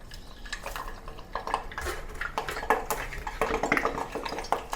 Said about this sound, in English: You can hear the splattering sound